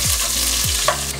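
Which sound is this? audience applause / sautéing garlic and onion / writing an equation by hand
sautéing garlic and onion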